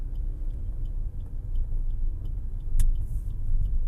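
A car driving in gear with its engine humming low and steady, rising slightly as the driver gradually speeds up, heard from inside the cabin with faint ticking.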